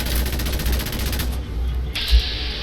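Sustained automatic gunfire in Fallout 4 rattles in rapid bursts as a robot is shot, loud and dense, then breaks off into a few heavier, isolated shots with no talking.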